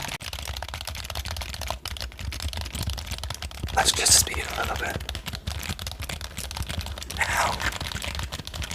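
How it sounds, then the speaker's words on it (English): Fingers tap and clack on a broken computer keyboard used for ASMR, a soft irregular patter of keystrokes close to the microphone, with a quiet whispered voice speaking over it. "this is my keyboard. It doesn't work. So it's now the ASMR keyboard."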